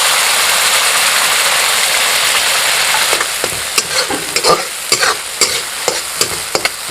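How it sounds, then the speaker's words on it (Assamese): Onion paste frying in a pan hisses steadily, then a spoon scrapes and stirs in repeated sharp clinks over the continuing close sizzle. "এইটো পিঁয়াজখিনি আপোনালোকে ব্ৰাউন কৰি ল'ব, মানে ফ্ৰাই কৰি ল'ব প্ৰথমতে।"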